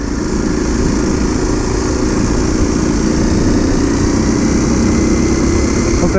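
Kawasaki KLX 230 motorcycle on a night ride in Thailand, its single engine droning steadily and loudly throughout at an even pace, close up with no talking.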